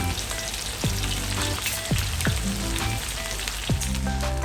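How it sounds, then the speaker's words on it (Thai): Sliced fingerroot deep-frying in hot oil for a spicy crispy catfish stir-fry, a dense, steady, fairly loud sizzle and crackle with no speech, and faint tones running underneath. "กระชายซอยครับทอดเหมือนกัน"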